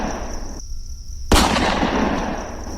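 Gunshots fired again and again in a night setting by the ravines, with a single sharp loud blast cutting through steady insect-like background hiss.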